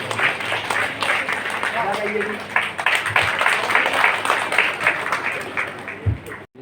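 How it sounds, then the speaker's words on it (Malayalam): A stage event audience at a 2024 festival celebration in Enanimangalam, Mannarkkad, applauds in steady, dense clapping throughout, with a voice speaking over the crowd. "എല്ലാവരും ഒരു നിറഞ്ഞ കയ്യടി"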